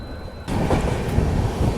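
A Lucknow–New Delhi superfast express rolls along the rails, a steady loud rumble of wheels and carriages that swells suddenly after a quieter start and carries on as a dense close roar.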